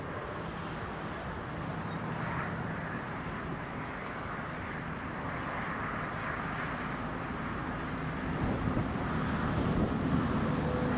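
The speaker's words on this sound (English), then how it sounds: "Right, here comes the King Air." A Beechcraft King Air arriving at Newcastle Airport during Storm Isha, a steady distant engine drone mixed with wind buffeting the microphone, slowly growing louder toward the end, with no voices.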